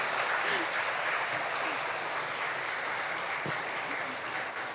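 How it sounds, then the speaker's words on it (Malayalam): Children applauding together at an environment day gathering, a sustained burst of clapping that holds steady for several seconds at moderate distance before tapering slightly. "എന്നാലും ഒരു കൈയടി കൂടെ തരുമോ?"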